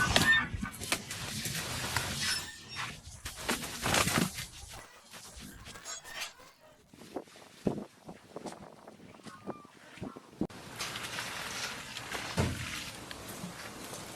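Farm chickens clucking outdoors in the countryside just before being caught, intermittent clucks and rustling close to the microphone, with wind noise gusting across the recording.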